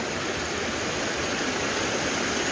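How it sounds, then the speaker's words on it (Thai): A small, cool waterfall in the Thai countryside gives off a continuous, even hiss of flowing, splashing water. The sound is close and steady with no voices. "มีน้ำตกน้ำตกแช่เย็น"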